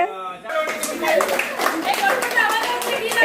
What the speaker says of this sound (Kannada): ಕ್ಲಾಪ್ ಮಾಡಿ. ಚಪ್ಪಾಳೆ.